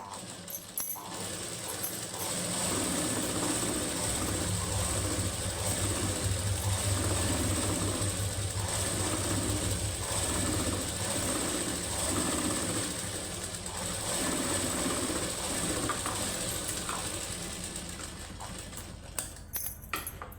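Sewing machine stitching a plain high-neck blouse, running in a steady rapid mechanical clatter for most of the stretch before slowing and stopping with a few clicks, close and alone.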